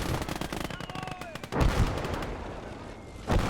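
Machine gun fire crackles in rapid bursts in a war video game, loud and close with a heavy blast in the middle, briefly overlapping a voice.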